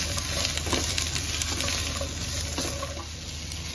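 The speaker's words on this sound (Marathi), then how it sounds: "आता आपण भाजी परतवून घेऊया।" Mixed vegetables for Maharashtrian Rushichi bhaji, including pumpkin and ridge gourd, are stir-fried in a pan, giving a steady close sizzle with faint stirring scrapes and no talk.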